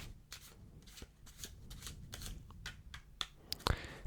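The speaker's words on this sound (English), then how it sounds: "So I'm going to start by giving the deck a shuffle." A deck of cards is shuffled repeatedly in soft riffling bursts, ending with a sharper snap of cards, close and fairly quiet.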